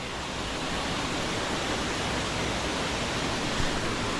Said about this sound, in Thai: อันนี้เป็นน้ำตกใหญ่